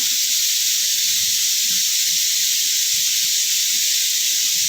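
Okra, tomato and green chilli paste with onions fry in a pan for tamarind stew, giving a steady, loud, even hiss of sizzling with no pauses.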